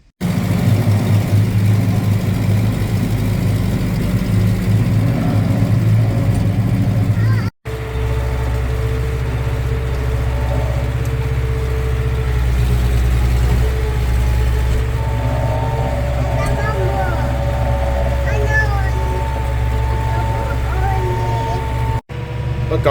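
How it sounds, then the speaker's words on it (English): A tractor engine runs steadily at a close, constant drone on a bison farm while fencing and pasture work goes on, with a brief cut partway through. A tonal whine rises and shifts over the hum. "we're in here in this nice warm tractor"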